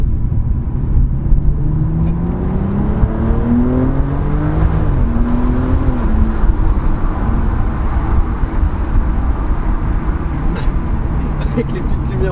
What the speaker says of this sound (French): Ce petit bruit du turbo là qui s'active.